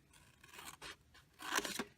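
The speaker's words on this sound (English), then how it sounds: "we're going to cut that little rectangle off with our scissors" Scissors snip through scored paper card during a Halloween stamping craft, giving several short crisp cuts, faint at first and then a louder cluster of snips near the end, close by with no talking.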